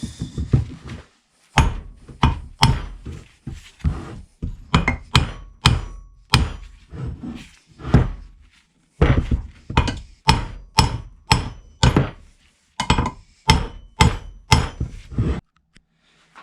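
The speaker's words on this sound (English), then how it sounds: "take our 4-pound shop hammer, 3-pound in this case, and then evenly bang the exhaust housing off" A 3-pound shop hammer strikes a Holset H1C turbo's exhaust housing over and over, producing loud, close metallic bangs in uneven bursts and steady runs of roughly one or two blows per second, with brief pauses between groups and no talking.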